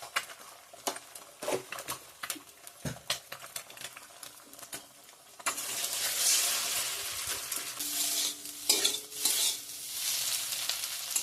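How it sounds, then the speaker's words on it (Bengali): Spatula clicks and scrapes against a pan, then a loud sizzle as eggs hit hot oil and keep frying while being stirred into a scramble (egg bhujia). "এখন ডিমের ভুজিয়াটা করে নেব তরকার জন্য"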